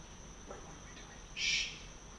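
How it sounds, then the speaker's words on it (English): A cricket chirping outdoors at night, a thin steady high trill running throughout, with one brief louder shrill burst midway and no voices. "I just didn't want to fight with the cricket the whole time."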